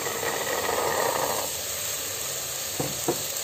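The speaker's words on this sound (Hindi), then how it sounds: "अब हम इनको भी अच्छे से भून लेंगे इसमें" Potatoes and peas fry with spices in a pan for aloo matar tahari, giving a close steady sizzle and hiss with a few brief stirring knocks near the end.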